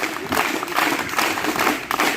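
Audience applause at a school alumni gathering in a rural high school, welcoming a batch of former students onto the stage: a dense, continuous wash of clapping from a crowd close by.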